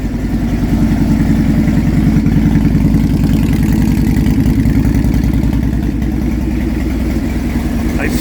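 A 2018 Harley-Davidson FLHTK with a 114 kit and true dual exhausts idles close and loud, its deep lumpy rhythmic pulse holding steady throughout.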